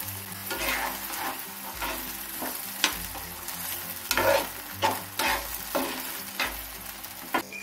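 Capsicum for a cauliflower Manchurian stir-fries in a pan as sauce goes in, with a continuous sizzle and repeated scraping stirring strokes at an irregular rhythm, close and without talk.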